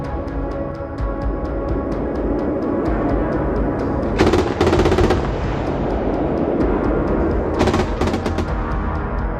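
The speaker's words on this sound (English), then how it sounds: "Gepard, equipped with radar and electro-optical guidance, can fire 35mm caliber shells" A German-made Gepard 35mm anti-aircraft gun fires rapid, continuous automatic rounds at a distance, with two bright, harsh bursts standing out over the steady rumble.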